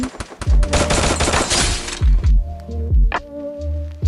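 Gunfire from a battle royale shooter game, a dense rapid burst of shots followed by several heavy separate booming shots, loud and close, with no talking.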